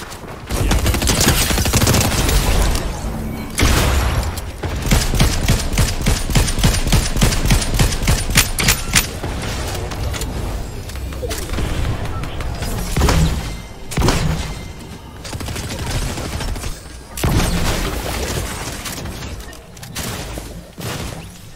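Gunfire in a first-person shooter video game, with repeated bursts of rapid automatic shots and heavy thumps over twenty seconds, loud and busy, pausing briefly between volleys.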